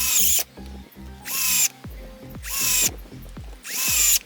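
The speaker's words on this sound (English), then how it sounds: "I took some 40mm self-tapping screws, which the screwdriver with the new battery coped with without any problems" A cordless screwdriver upgraded to an 18650 battery drives 40mm self-tapping screws, with four whirring runs that each start with a rising motor whine, separated by short pauses and clicks, close and loud.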